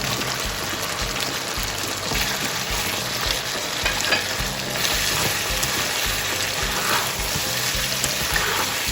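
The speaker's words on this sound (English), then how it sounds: "Put the cucumber, and then I put the ginger also." Cucumber and ginger are stir-fried in a hot pan for sweet and sour pork. The loud, close sizzling is broken by repeated scraping and tossing from the stirring, and no one speaks.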